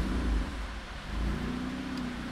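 An RX7 engine turns over and settles into a low, rumbling idle with a slight rev swell, close and fairly quiet, alone without voices.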